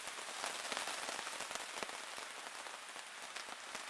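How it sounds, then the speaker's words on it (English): Steady rain patters on surfaces at a wet outdoor campsite during an overnight bushcraft trip, a close, even hiss of drops with scattered sharper taps, no voices. "Still raining since we arrived."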